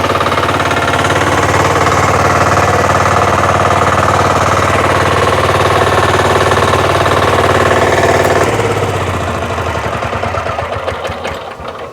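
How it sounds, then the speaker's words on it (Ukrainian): Motor Sich walk-behind tractor with its tiller attachment running at low revs, a steady loud rattling engine drone that holds evenly, then drops and softens near the end as the engine winds down. "Ось так працює фреза."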